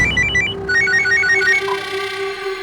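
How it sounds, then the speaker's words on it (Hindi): A telephone rings with a bright electronic ringtone melody, repeating short tonal phrases loud and close with no talking over it. "दरअसल उनका दोबारा से फोन आया था।"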